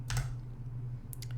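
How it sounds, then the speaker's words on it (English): Keystrokes on a Razer Huntsman V2 analog keyboard: a short burst of a few crisp clicks, then a quick second cluster, close and fairly quiet over a low hum. "This is some shitty, analog keyboard that I have"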